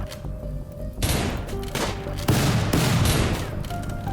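Bursts of gunfire from the Rimworld video game, an Arctic Freeze colony fight, crackle in rapid volleys with heavy booming shots layered over each other, loud and continuous throughout.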